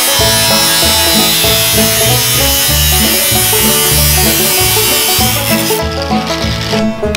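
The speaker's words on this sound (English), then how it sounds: "Should we fire up the grinder?" An angle grinder cutting into the steelwork of a tractor radiator under repair, a loud, continuous high whine with a rough rasping edge that keeps up almost the whole time, then eases near the end.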